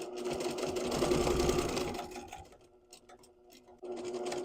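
A sewing machine stitches a quilted tote bag, whirring loudly and close for about two seconds, then slowing to quieter ticking before starting up again.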